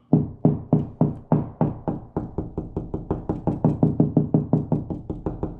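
Knuckles knocking repeatedly on a wall to find a stud while hanging a heavy mirror or picture, a fast run of about twenty close, hollow thuds that turn quicker and slightly duller partway through.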